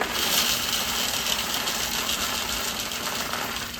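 Dry Quaker oats pour into a storage container, a steady granular rush and patter that holds at an even level, close and continuous, with no talking.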